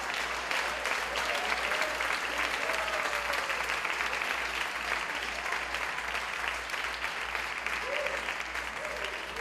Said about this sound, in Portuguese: Como eu gostaria que você aplaudisse o nome do Senhor